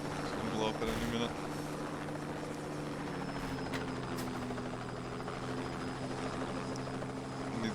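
A helicopter in the video game Just Cause 2 drones continuously with a steady rotor hum and engine whine, loud and close throughout, while a voice talks over it.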